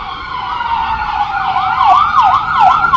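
A loud wailing ambulance siren switching into a fast yelp pattern, with traffic rumble underneath.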